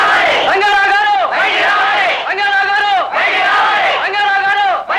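A large crowd shouts and yells together in a Telugu film scene, rising and falling in repeated waves of loud massed voices.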